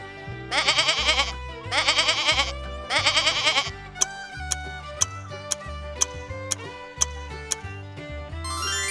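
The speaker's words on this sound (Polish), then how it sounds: "To koza." A farm goat bleats three times in quick, wavering bursts, loud and near, followed by a regular ticking beat over light background music, with no voices.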